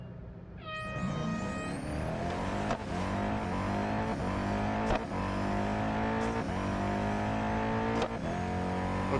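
Race car engine in the Real Racing 3 mobile game, loud and continuous, with rising revs, gear-change steps and repeated throttle surges throughout.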